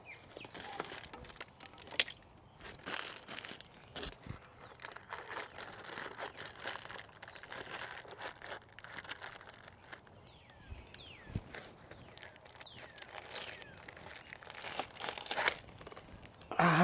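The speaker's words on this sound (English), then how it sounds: "I am going to take a plastic bag, the end of my cord, zip it and feed it through" A plastic bag crinkles and rustles around the end of an extension cord in a garden, with close, irregular bursts of crumpling and crunching that continue for a long stretch.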